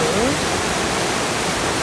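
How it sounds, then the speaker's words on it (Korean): Yosemite waterfall roaring in a loud, steady broadband rush that fills the whole clip without a break. "쭉 올라가시면서 보는 폭포의 웅장함 그리고 푸른 하늘"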